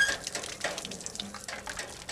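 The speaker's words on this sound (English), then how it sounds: "How slow can you go and still have water coming out?" Water trickles slowly from a tap in a faint, irregular patter of drips and splashes, steady throughout and fairly close.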